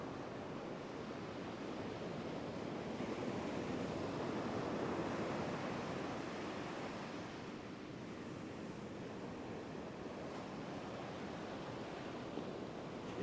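Heavy surf breaks on an open beach during a big-wave fishing session, a steady, dense roar of rolling and crashing water with wind noise blended through it and no clear gaps.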